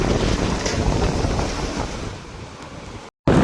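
Wind and rain storm lashing a seaside spot in Jaffna, with steady loud roaring wind buffeting the microphone over a broad wash of surf and rain, then a brief dropout before the gusty roar resumes.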